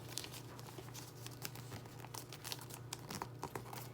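Gift wrapping paper being cut and handled while wrapping a present, giving soft, quiet crinkling and rustling with scattered small crackles and taps throughout.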